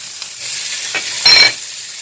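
Minced meat with parsley fries in a pan: a steady close sizzle with a brief louder burst of crackle near the end, likely from stirring.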